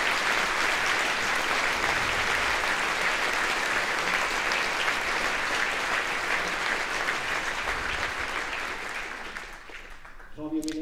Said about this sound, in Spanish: que merece un gran aplauso